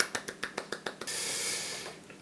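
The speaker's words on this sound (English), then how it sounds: "Golf clap?" About seven soft, slow hand claps tap out a sparse golf clap, then a steady broad hiss takes over and holds to the end.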